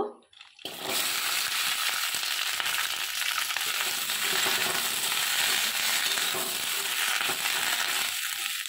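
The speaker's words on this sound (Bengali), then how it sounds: "এখানে পেঁয়াজ কলি আর সিম আমি রেখেছিলাম, ওইটা একটু হালকা করে ভেজে নেব।" Onion stalks and flat beans frying lightly in a little oil in a wok make a steady, close sizzle that starts after a short quiet moment and holds at an even level throughout, with no talk.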